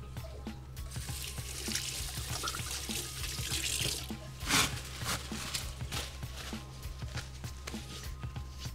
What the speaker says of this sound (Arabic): ابدا اغسل ايدي